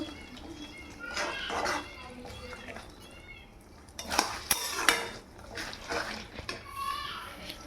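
Pointed gourd and potato being cooked down in a pan, with intermittent scraping and clinking of a utensil stirring against metal, louder bursts midway, under a soft background voice.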